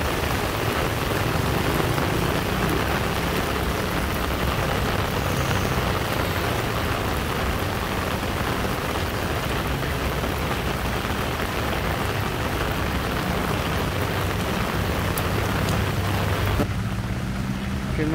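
Heavy rain pours at the Marikina River as a dense, continuous roar that holds steady and loud for the whole stretch, with no pauses.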